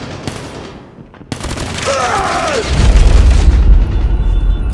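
Gunfire and booming blasts from a Call of Duty Mobile ranked Hardpoint match, with a sharp crack early on, swooping tones, then a heavy low rumble that holds loud to the end.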